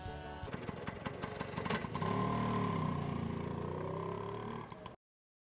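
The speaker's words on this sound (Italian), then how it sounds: "Rombo di motori e si parte." A vehicle engine turns over and builds to a steady, loud roar as it pulls away, holding a sustained hum close by for several seconds before cutting off abruptly.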